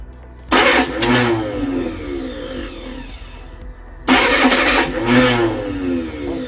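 Freshly built engine in a Reliant Supervan cranking and firing up twice, each start bursting into loud revving that falls back toward a rough idle, heard close.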